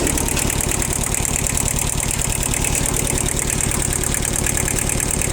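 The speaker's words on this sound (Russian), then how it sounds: "работает двигатель достаточно ровно" Two-cylinder engine of a rear-wheel-drive mini tractor with about 820 running hours idling evenly, a steady close chugging rumble with a rapid regular pulse and no talk over it.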